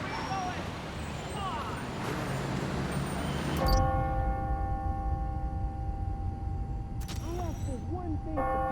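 Church bells in Marvel's Spider-Man: Miles Morales ring out on the hour with sustained, overlapping tones over a busy, noisy background with voices, then a second bell strike follows later.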